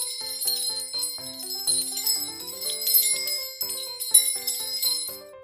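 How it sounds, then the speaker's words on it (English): Bright, chiming bells peal in rapid repeating patterns over a soft melodic backing, a cheerful continuous jingle celebrating newlyweds stepping into a plaza. "Bells pealed as the happy novios, the newlyweds, stepped into the plaza."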